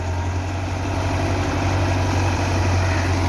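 A Belarus 510 tractor engine idles with a steady, deep, even rumble, loud and close, holding constant throughout with no talking.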